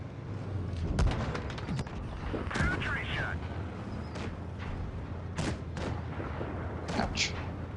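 Tank guns fire in a World of Tanks-style video game, several sharp booms and shots scattered across a steady engine rumble, with someone talking over the action.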